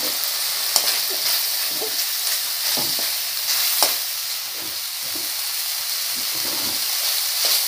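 Chili powder sizzles and fries in hot oil in a pan for an egg and cauliflower kurma, with steady loud hissing throughout and occasional scraping clicks as a spoon stirs it in, with no talking.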